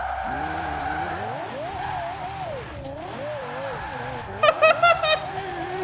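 A Lexus IS-F drifts in Forza Horizon 4, tires squealing in long wavering howls over a loud engine drone, rising into sharp repeated screeches near the end, with a voice talking over it.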